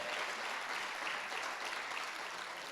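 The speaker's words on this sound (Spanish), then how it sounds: "Dele un fuerte aplauso a aquel que vive y reina por los siglos de los siglos" A church congregation applauds in a steady, dense patter of many hands clapping together, fairly quiet and continuous throughout.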